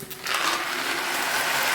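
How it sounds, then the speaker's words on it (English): Dry macaroni pours into a pot of boiling water, giving a steady hissing, rattling rush that starts abruptly and holds loud and close for almost two seconds. "So then I'm gonna be pouring the macaroni inside the pot."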